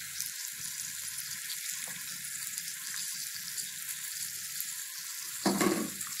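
Meat sizzles and fries steadily in a pan as spices go in, a continuous hiss with a brief louder clatter or stir near the end.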